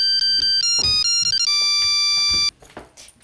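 A loud electronic phone ringtone plays a bright, melodic run of tones that climbs into a held chord, then cuts off abruptly, leaving quiet room sound.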